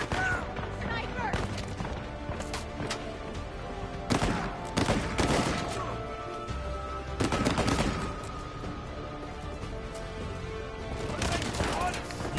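Sniper rifle shots in the video game Uncharted 4, several sharp cracks and bursts of gunfire spread unevenly through a combat scene, loud and close, with a voice talking at times over the action.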